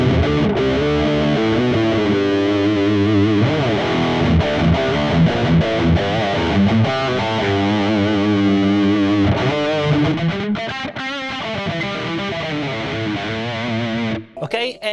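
A heavily distorted electric guitar through a Mooer GTRS S801 high-gain preset plays sustained, gritty chords and riffs, loud and saturated, ending abruptly with a few short bursts.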